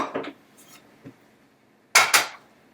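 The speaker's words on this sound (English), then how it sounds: "So let's get our pan onto the stove." A pan set onto a stove top makes a couple of close metallic clanks and scrapes, with a lighter knock or two beforehand and no talking over them.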